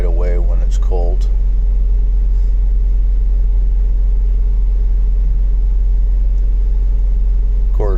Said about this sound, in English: Of course, I'm holding the gas pedal to keep the idle up too.